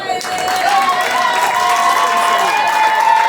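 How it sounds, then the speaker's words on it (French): Guests at a customary and civil wedding ceremony applaud together, a dense, sustained wash of clapping and crowd noise that stays loud and even, with a sung or voiced tone riding over it. "Applaudissez pour elle."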